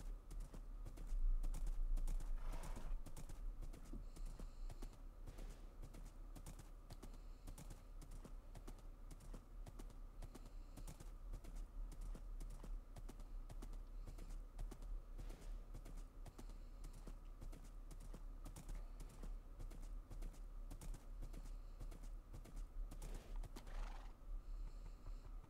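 Horse hooves clip-clop in a Minecraft-style video game, a quiet, steady trotting rhythm that carries on throughout with a few faint snorts and soft clicks.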